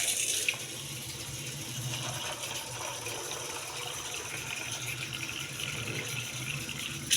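Nuts being washed under tap water in a sink: a steady, soft rush of running water with light rattling and clattering as the nuts are moved about, fairly faint throughout.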